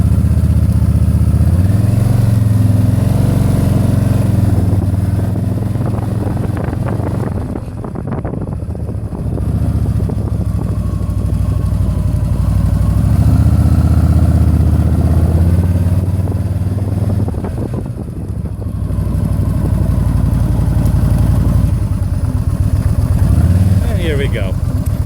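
A Yamaha VStar 950 motorcycle climbing a steep home driveway, its engine a loud steady low throb with wind buffeting the microphone, easing off briefly twice before pulling again, and a rider talking over it.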